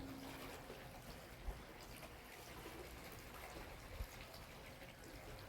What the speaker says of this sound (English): You hear that water lapping right down there on those rocks?